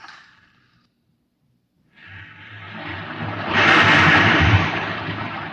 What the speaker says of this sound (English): You can hear the roaring of the gases in the test chamber behind me